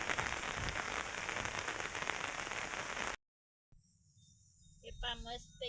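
Heavy monsoon rain pours onto a farm field, a dense, even hiss lasting about three seconds before cutting off abruptly; after a short gap, a voice speaks over a quieter background.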